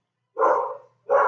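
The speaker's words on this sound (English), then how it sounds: "my dogs are barking" Pet dogs bark indoors in two close, loud woofs separated by a short pause, with no voices over them.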